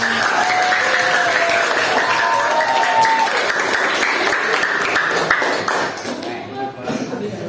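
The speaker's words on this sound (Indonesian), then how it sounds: "Kalau senang sekali lagi kita kasih tepuk tangan buat kita semuanya" An audience claps loudly in sustained, dense applause for several seconds before it thins out and fades, with some voices mixed in.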